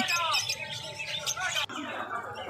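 Finches and lovebirds at a Kolkata bird market chirp and tweet rapidly in a busy, high-pitched chorus, close and continuous, with background bustle.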